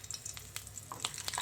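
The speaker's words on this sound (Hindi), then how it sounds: "बिल्कुल स्लो फ्लेम पे मैं इनको दोनों साइडों से हल्का हल्का फ्राई करूँगी" Stuffed green chillies frying in mustard oil in a small pan over a low flame, giving a steady soft sizzle with scattered crackles and pops close by, no talking.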